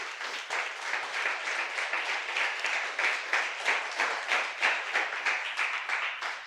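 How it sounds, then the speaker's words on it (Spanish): Steady applause from a church congregation at a Spanish-language sermon, dense hand clapping that swells in rhythmic waves and continues unbroken for several seconds with no voices over it. "Dele un aplauso a él."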